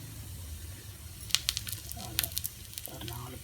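Food frying in a generous amount of hot oil, a soft steady sizzle with a brief cluster of crackling pops in the middle, fairly quiet throughout.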